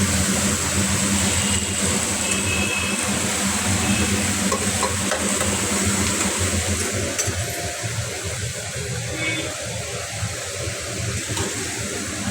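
Food fries in a pan while being turned over, a steady loud sizzle with soft scraping stirs that eases a little toward the end.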